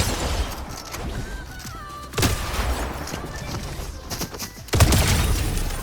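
Enemy gunfire in a shooter video game comes as booming bursts of shots over a busy game soundscape, with two heavier volleys, and a voice talks faintly underneath.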